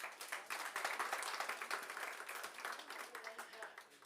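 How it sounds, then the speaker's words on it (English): Crowd applause at a Miss Namibia top 20 reveal event, steady dense clapping from an audience heard up close, holding fairly even throughout. "Can we please give these young women a round of applause?"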